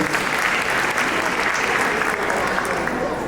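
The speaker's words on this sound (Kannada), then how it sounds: "ಸುಪ್ರಿಯಾ ಅವ್ರ ಚಪ್ಪಾಳೆ ಬರಲಿ." A crowd at a Ganesh Chaturthi cultural program gives a loud, sustained round of applause for the singer Supriya, the clapping even and full throughout with a few voices mixed in.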